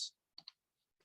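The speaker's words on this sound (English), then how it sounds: "Typing on live TV" Typing on a computer keyboard during a live TV broadcast: a few quick, faint, close clicks of individual keystrokes separated by short silences.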